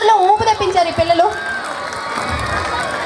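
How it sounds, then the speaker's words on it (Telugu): A school-day crowd in Kodad, Suryapeta claps and cheers in a continuous dense wash of noise, with children's excited shouts and a voice over the top early on. "ఒకసారి గట్టిగా చప్పట్లు కొట్టండి"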